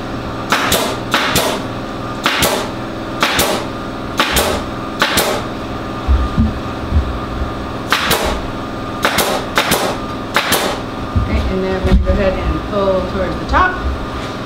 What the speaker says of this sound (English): we have the channel here that we're going to be stapling into